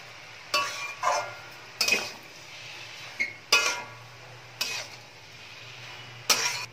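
Curry with added salt and sugar is stirred and mixed in a pan, a spoon scraping and clinking against the metal in about six separate, close strokes with quiet gaps between.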